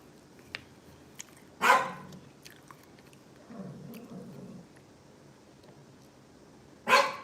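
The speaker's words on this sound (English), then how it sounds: "You hear my dog barking." A dog gives two sharp barks several seconds apart, with quieter scuffling and chewing-like sounds in between.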